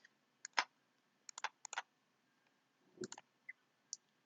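Computer mouse clicks while selecting in a drawing program: a quiet, close series of sharp single and double clicks spread irregularly over a few seconds, with no talking.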